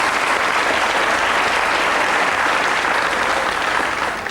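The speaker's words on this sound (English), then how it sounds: "Give them a round of applause for that" Studio audience applause on a 1989 UK TV game show, The Pyramid Game, a dense continuous clapping that stays loud throughout and fades slightly at the end.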